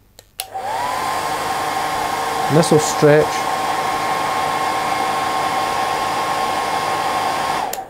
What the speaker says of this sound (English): Just switch the hairdryer on.